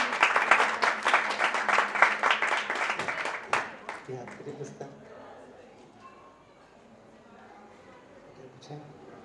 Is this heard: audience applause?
yes